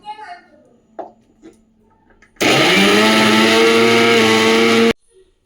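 A mixer grinder grinding coconut chutney roars loudly and steadily for a few seconds after a person speaks briefly, then cuts off abruptly.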